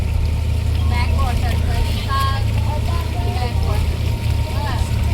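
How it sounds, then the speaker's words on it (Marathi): A motorboat cruises under a bridge on the Kerala backwaters on the way to Poovar Island, its engine a steady, loud low drone with water noise throughout, while people talk over it. "इथून इथे ब्रिजच्या खालून आपली बोट जात आहे"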